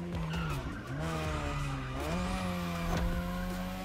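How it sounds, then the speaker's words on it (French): Tires squeal in a long, sustained drift as a car slides sideways in the racing game The Crew Motorfest, engine droning steadily beneath the screech, loud and continuous with no voices. "J'essaie de drifter avec, mais j'ai l'impression que c'est pas son point fort."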